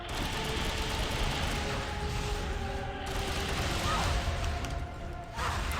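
Dense, continuous gunfire rattles through a Tomb Raider: Anniversary boss fight against Natla, with overlapping shots and crashes forming a steady wall of noise.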